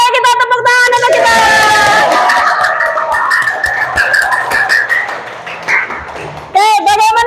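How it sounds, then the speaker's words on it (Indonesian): A school class claps hands together in a classroom, a loud, dense patter lasting several seconds, mixed with overlapping voices before and after. "kita tepuk tangan untuk kita"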